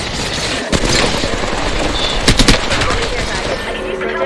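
Video game gunfire crackles in a steady loud stream, with a few sharper close shots standing out partway through over continuous background combat noise.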